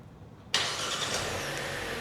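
A 2025 BAIC X75 engine cranks and starts by remote start with the car locked, after half a second of quiet, then settles into a steady, fairly loud idle with broadband rumble.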